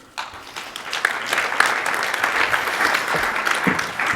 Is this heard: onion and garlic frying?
no